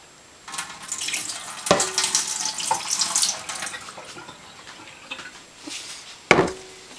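Extra soaking water poured out of a dye container used for silk hankies, splashing and trickling in bursts with a couple of sharp knocks from the vessel.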